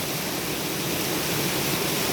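River water flows in a steady, dense rush of broadband noise, close and even throughout with no pauses or other sounds.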